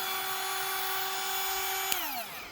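A cordless rotary tool runs steadily at its third speed setting with a high, even whine that continues close and loud, then winds down near the end as the motor is switched off.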